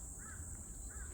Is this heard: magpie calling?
yes